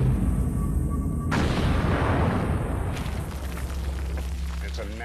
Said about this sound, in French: C'est une grosse explosion qui projette une grande quantité de débris à des kilomètres à la ronde.